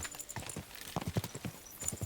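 Horse hooves clip-clop in the medieval game Kingdom Come: Deliverance 2, an irregular run of close, hollow thuds with slight clattering, fairly quiet and without talking.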